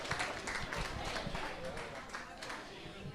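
Live audience applauding a band at the end of a set, a dense continuous wash of clapping and crowd noise, close and full, with a voice talking over it.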